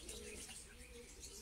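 Pigeons coo softly in a distant, faint soundscape at a Punjab pigeon-flying gathering in Sheikhupura, the low calls barely rising above a hazy background with occasional small chirps.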